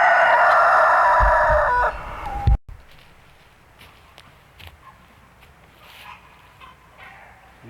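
A rooster crows loudly and close for about two seconds, then quieter clucking and shuffling footsteps follow.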